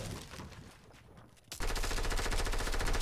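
Automatic gunfire in Fortnite Battle Royale erupts halfway through after a quieter stretch of game ambience, a loud, dense, rapid burst of shots that continues steadily to the end.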